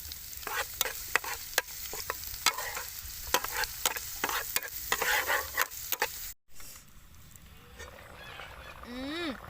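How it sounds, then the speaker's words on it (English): Garlic fries in oil for chicken porridge: a steady sizzle is broken by sharp, repeated scraping stirs of a utensil against the pan, and the sound quiets abruptly near the end to a low simmer. "We fry garlic to eat with our porridge."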